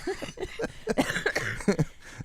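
Coughing from a man on a cruise ship, a string of rough, rapid coughs close to the microphone over a murmuring background.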